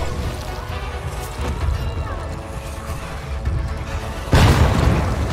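Explosions boom through the zombie-survival game State of Decay 2, deep rumbling blasts under steady game noise with one heavy hit near the end.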